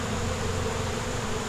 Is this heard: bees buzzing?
yes